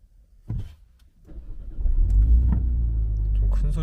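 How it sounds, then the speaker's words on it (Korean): Mini Countryman S ALL4 engine cranking with a short burst, then catching and settling into a loud, throaty idle that holds steady, with a voice speaking briefly. "시동을 한번 걸어보면은"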